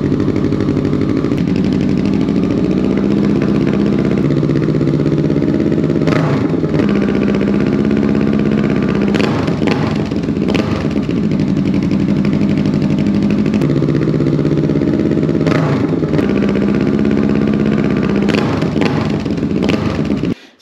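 Kawasaki Vulcan 650 S motorcycle with a Delkevic exhaust idles in neutral, a steady close throbbing engine note with a few brief blips and clatter over about twenty seconds, no talking.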